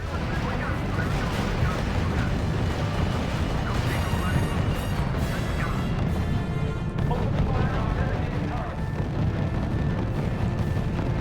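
Sustained heavy gunfire and artillery in the strategy video game R.U.S.E., a continuous, loud rumble of shots and blasts with a voice speaking over the battle.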